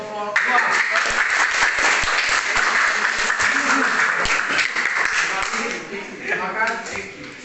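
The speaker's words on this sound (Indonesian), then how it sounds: "Untuk itu kita beri aplaus kepada kelompok 2" A classroom bursts into dense, loud applause for a student group, with the clapping thinning out near the end as a voice begins speaking.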